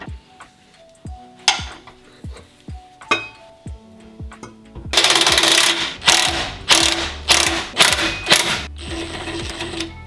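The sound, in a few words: loosening shock bolts with 14 mm socket on breaker bar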